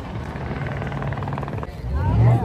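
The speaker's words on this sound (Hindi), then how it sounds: "और वो देखो हेलीकॉप्टर, वो चेज हो रहा है" Helicopter in a GTA V style video game chasing a car, a steady rotor thrum and engine drone under a person talking.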